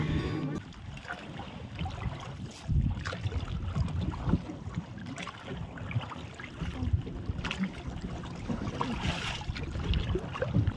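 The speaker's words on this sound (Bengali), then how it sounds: "আর এই বোটটা কিন্তু বেশ নতুন" Newly painted boat moving across the Maithon Dam reservoir, with a steady engine and water wash, wind and rushing water throughout, and faint voices in the background.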